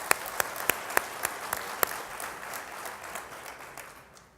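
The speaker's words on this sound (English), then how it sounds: "Can we give them a round of applause?" An audience applauds young leaders at a conference, a burst of sharp individual claps at first that blends into steady clapping and fades out over a few seconds.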